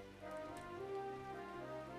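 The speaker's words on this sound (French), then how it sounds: "une pluie d'acide" Acid rain hisses softly in the Dragon Quest Builders video game, a faint, steady patter of drops under tonal game music.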